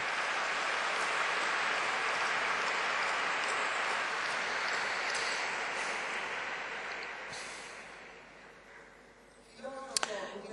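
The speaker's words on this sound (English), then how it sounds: "Or rather now, we will applaud them." Applause from an audience at a meeting welcoming a young French philosopher, a dense steady wash of many hands clapping that fades gradually toward the end, followed by a few sharp clicks and knocks.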